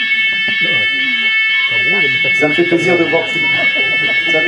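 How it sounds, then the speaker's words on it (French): A fire alarm sounds continuously, a steady high electronic tone holding throughout at a fixed pitch, while someone speaks over it in French. "Ah, c'est l'alarme incendie, ne vous inquiétez pas."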